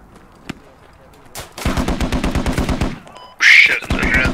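Mortar fire in the video game Squad: a single sharp shot, then a rapid rhythmic burst of gunfire with a loud hissing blast near the end, all close and punchy.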